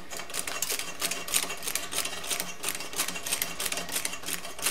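Air drill running in reverse to back a left-hand niobium drill bit out of the hole, a steady buzzing whir with a rapid, chattering pulse that holds close and even throughout.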